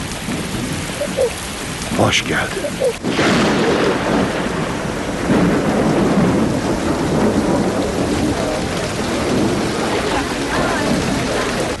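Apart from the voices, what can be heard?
heavy rain with thunder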